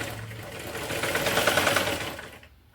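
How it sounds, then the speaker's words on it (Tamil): A sewing machine stitches along folded cloth for a pillow cover, a close, rapid mechanical whirring that swells to a peak mid-run and then winds down. "நான் ஸ்டிச் பண்ணிவிட்டு காமிக்கிறேன்"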